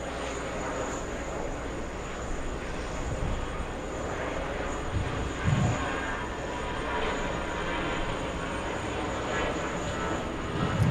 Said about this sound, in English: Yeah, Lufthansa's taking off, yeah.